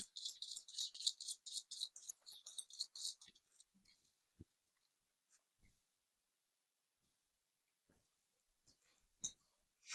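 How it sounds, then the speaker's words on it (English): Tarot cards riffle in a rapid crisp flutter for a few seconds, then fall quiet apart from a few soft taps and handling sounds. "So I usually shuffle the cards 3 times, and then I cut the deck in 3"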